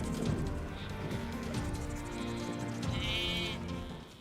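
A flock of sheep bleats repeatedly on an open pasture in Kyrgyzstan's Alay region, overlapping calls at moderate distance with a dense, continuous chorus.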